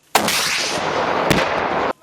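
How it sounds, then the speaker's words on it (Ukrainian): Assault rifles and machine guns fire at an anti-terrorist training range, a dense sustained burst of loud shots with a sharper crack near the end, close and unbroken for about two seconds. "Стріляли протягом кількох годин із автоматів, кулеметів, снайперських гвинтівок і навіть із гранатомету."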